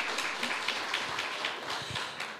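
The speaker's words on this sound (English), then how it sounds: "please applause" Audience applause at a graduation ceremony: a steady wash of many hands clapping at moderate volume, sustained for a couple of seconds without voices over it.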